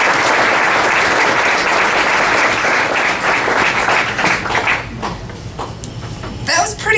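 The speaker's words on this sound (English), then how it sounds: "Another round of applause for our seniors." An audience at a seniors' luncheon claps in a loud, dense round of applause that holds steady and then tapers off, with a voice starting to speak near the end.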